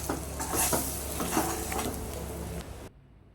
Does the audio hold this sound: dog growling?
no